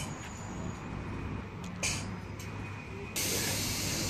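A Class 319 electric train on Northern service draws into a platform at Wigan North Western, a steady broadband rush and hiss of the moving train with a brief squeal, then a louder burst of air hiss near the end.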